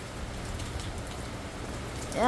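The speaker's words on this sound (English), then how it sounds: "Alright, it's raining hard, so I gotta pause the video." Hard rain pours down during a severe thunderstorm in Utah, a steady close hiss of falling water with dripping nearby, and a brief higher-pitched sound rises near the end.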